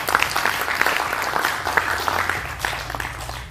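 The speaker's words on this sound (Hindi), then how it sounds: "इस बात पे ताली बजाइए, ये ताली बजाने वाली बात।" Steady applause from a crowd, a dense patter of clapping that continues throughout without pause.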